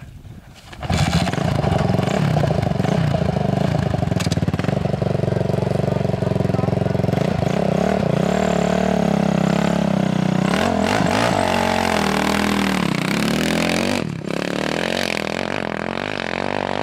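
A motorcycle engine roars loud and close for the whole stretch, revving up and shifting through the gears as the rider pulls away, with the throttle easing near the end.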